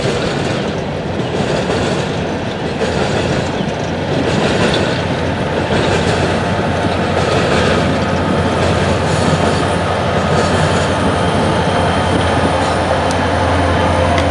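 A freight train led by BNSF and ATSF Jeep yard locomotives rolls past close by, with a loud continuous rumble, rhythmic clickety-clack of wheels over rail joints and occasional squealing metal throughout.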